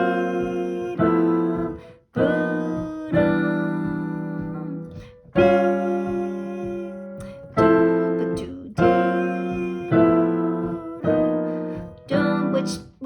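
Piano melody built on tritones, played in its original shape, with a series of struck chords and single notes in separate phrases that ring out and fade, close and fairly loud with no talking.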